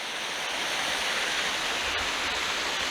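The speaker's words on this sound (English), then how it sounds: "Some more little waterfalls here, on way up there." A small waterfall in the Northumberland hills rushes in a steady, dense roar, close and continuous with no pauses and no voices over it.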